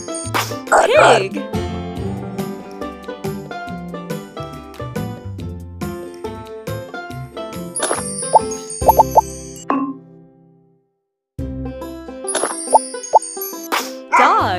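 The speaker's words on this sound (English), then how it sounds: "Dog." A dog barks a few times among bouncy plops, jingles and musical effects, with a short voice and a brief silent gap partway through.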